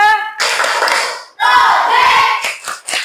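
Primary school class rhythmically clapping during a group chant in a classroom, loud patterned claps mixed with children's voices chanting together.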